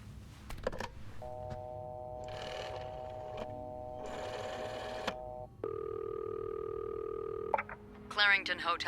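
Inside the video game This Bed We Made, a phone is dialed with a series of clean electronic tones, some held and some in short bursts, each steady and separate. Quiet room tone sits underneath, and a brief voice cuts in at the end.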